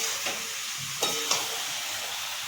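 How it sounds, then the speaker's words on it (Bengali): Meat being sautéed in oil in a pan during a home birthday cooking session, giving a steady soft sizzle with a few light stirring clicks and scrapes, close and alone without talk. "মা মাংসটা কষছে।"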